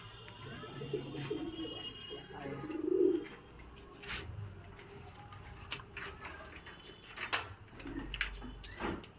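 Pigeons in a home loft give soft, low coos, with one fuller coo standing out among scattered quieter calls, faint rustles and clicks in a calm indoor setting.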